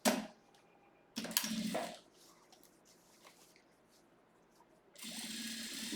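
A sewing machine runs in two short bursts and then one steadier stretch, stitching around the lining near the top edge of a small basket-style fabric pencil case, with quiet pauses in between.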